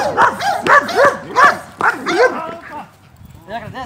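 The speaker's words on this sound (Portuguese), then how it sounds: "só que tá vindo o latido" A guard dog in attack-command training barks close up in a quick rhythmic series of about six barks, then gives softer whiny yips.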